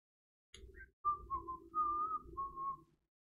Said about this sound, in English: Hope anyone listening gets to enjoy my whistling.